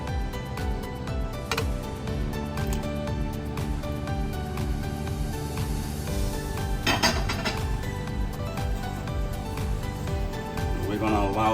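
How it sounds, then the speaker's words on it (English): Spaghetti being mixed with parmesan in a metal pot, scraping and clinking of a utensil against the pot, steady and close, with music playing underneath. "Add my parmesan and give it a mix."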